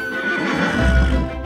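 A horse neighs loudly and close by in a long whinny, with a faint clip-clop of hooves beneath it.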